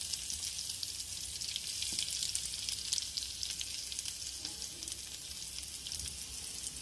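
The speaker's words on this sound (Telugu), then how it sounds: "ఈ విధంగా మధ్యలో మనం తిప్పుతూ వీటిని ఫ్రై చేసుకోవాలి." Chicken legs frying in a pan over a low flame, giving a steady, soft, hissing sizzle with faint crackles and small pops, heard alone without talk.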